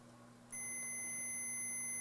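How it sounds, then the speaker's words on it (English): Continuity tester buzzer on a model railroad locomotive wheel check, a steady electronic beep that switches on abruptly partway through and holds a constant, clean tone to the end. "you could hear that buzzer go off"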